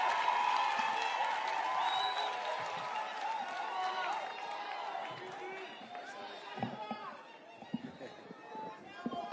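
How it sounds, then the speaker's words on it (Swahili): A crowd at a presidential rally in Gilgil, Kenya claps and cheers in a broad, moderately distant swell, with chatter and a few sharp knocks toward the end. "Makofi tena."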